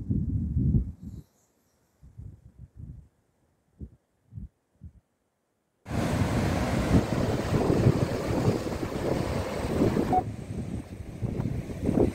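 Sea waves wash against a quiet Konkan shore under heavy wind rumble, after a few short bursts of sound separated by silence, then a steady loud roar continuing to the end.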